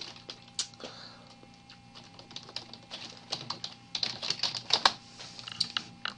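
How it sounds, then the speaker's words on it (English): Rapid, irregular clatter of typing on a computer keyboard at close range, with no talking; the keystrokes start sparse and soft, then grow denser and louder toward the end. "you go to Google and just type Notepad++"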